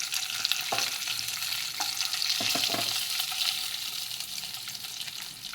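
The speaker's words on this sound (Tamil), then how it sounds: "இதுக்கு ஒரு பேனில் எண்ணெய் ஊற்றி உளுந்தம் பருப்பும் பெருங்காயமும் போட்டு வதக்கியிருக்கேன்" Urad dal, asafoetida, garlic and onion sizzle in oil in a pan, a steady soft frying hiss broken by a few distinct scrapes and clinks as the mixture is stirred, with no voices.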